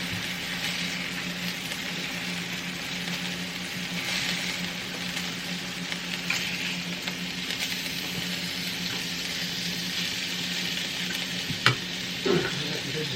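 Appetizers, including quail eggs, fry in a pan with a steady, moderate sizzle throughout, broken near the end by a couple of soft clicks and scrapes.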